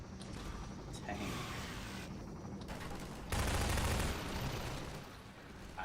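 SMG fire in the video game Half-Life 2 rattles through a dense, noisy game mix, with a louder sustained burst near the middle over steady mechanical background sound.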